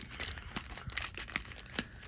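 Pokémon card packs being shuffled by hand make close, crinkly foil rustling and scattered crisp rubbing clicks, steady and fairly soft, with no talking.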